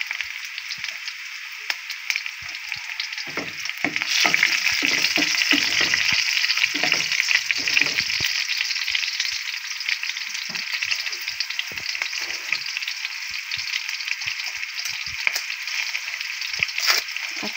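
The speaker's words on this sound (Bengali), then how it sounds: "পেঁয়াজগুলোকে লাল করে নেব। পেঁয়াজটা প্রায় লাল হয়ে গেছে।" Onions fry in a pan for a baim eel curry with a steady, bright sizzle throughout, broken by occasional stirring thumps and scrapes, and no talking.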